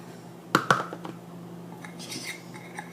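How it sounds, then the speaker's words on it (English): A utensil knocks and clinks against a bowl in two sharp hits, followed by softer scraping as body butter is scooped out, close and quiet with no speech. "Let me get this bowl closer to me so I can scrape it all out."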